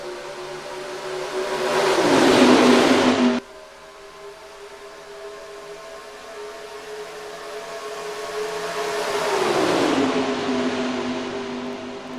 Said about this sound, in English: Oliver Galloway, Matt Godden, front row, and green flag in the All-Star Open for season 9 of the Gatorade Cup Series.